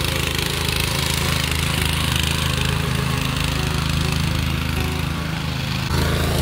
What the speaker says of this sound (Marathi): हे बघा मंडळी ट्रॅक्टर बंद झालो होतो तो केला चालू